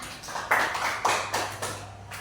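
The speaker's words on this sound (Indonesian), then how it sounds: "Tepuk tangan buat Ilan" Short burst of classroom applause for a student after a lesson answer, a few uneven clusters of claps over low background hum, no talk.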